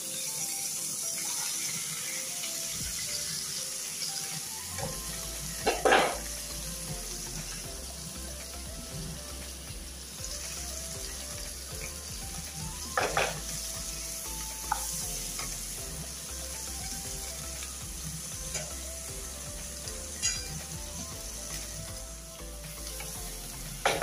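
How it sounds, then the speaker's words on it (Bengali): Okra (bhindi) frying in a pan gives a steady, close sizzle throughout, with a few sharp utensil clinks standing out now and then. "ভেন্ডি ভাজি বসাই দিই।"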